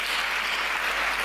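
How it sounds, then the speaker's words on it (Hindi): A crowd at a Kolkata Holi poetry gathering claps for a poem in a dense, loud, continuous burst of applause with no voices over it. "एक बार जोरदार तालियां कविता के लिए बजाइए।"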